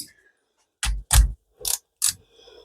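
A socket wrench ratchets on a motorcycle front fork cap as it is snugged up, giving four short, sharp clicking bursts close by, separated by brief silent gaps.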